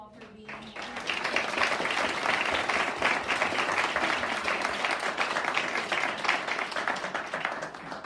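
An audience applauds a panel at a professional development and networking event in New York City, steady sustained clapping from many hands that builds up after a brief quiet start and continues throughout.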